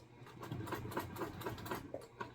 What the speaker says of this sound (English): So I just take and put it on my machine and set my foot as close as I can get, do a line of stitching across